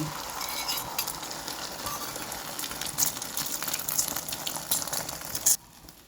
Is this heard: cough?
no